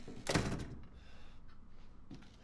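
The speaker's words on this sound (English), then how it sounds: "Shut the door." A door shutting with a single firm thunk in the horror game Resident Evil 7, close and loud, followed by a faint creak and low ambient tone.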